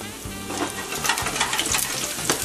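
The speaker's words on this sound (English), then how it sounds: "We're gonna get our garlic in there. We're gonna brown it up a little bit." Steady crackling sizzle of garlic browning in hot olive oil, close up, with a few faint clinks and stirring sounds.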